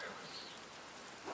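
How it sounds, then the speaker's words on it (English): Steady rain in the video game Pentiment, a soft, even wash of falling water that stays faint throughout with no voices over it. "I hope this rain lets up for you soon."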